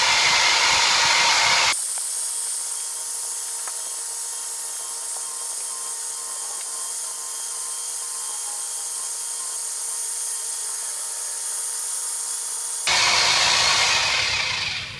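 A T-DRILL Plus-100 drilling machine running, a steady mechanical whine and drone held at constant loudness, with harsher, louder broadband noise at the start and end.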